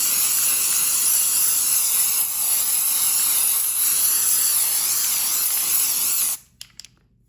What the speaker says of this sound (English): So I'm just gonna spray a lot of this on here.